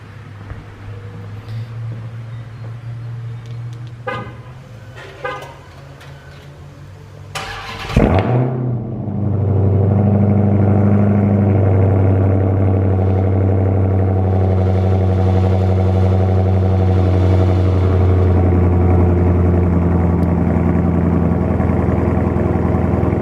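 A car engine cranks and catches on a cold start, then settles into a loud, steady idle with a deep low drone held close by for the rest of the clip.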